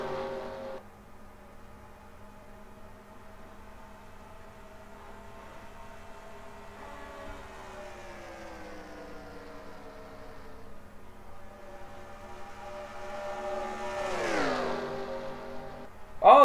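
Stock race cars run on a track with a steady engine drone that rises and falls in pitch, and one car sweeps past up close near the end. No one talks.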